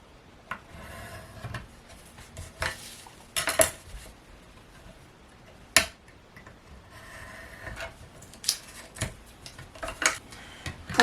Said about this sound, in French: je prends ce qui me permet de faire les angles et je vais venir donc couper mes angles